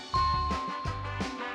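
A short game show jingle signalling a correct answer, a bright tinkling tone over a few quick musical hits, lasting about a second and a half and heard alone.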